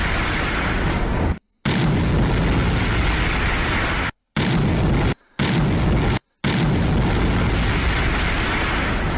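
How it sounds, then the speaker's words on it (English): Movie explosions detonating inside a building, a loud sustained roaring blast of rumbling noise broken by several sudden brief cutouts into silence, with no voices over it. "I wouldn't want to be on the same floor when those detonate"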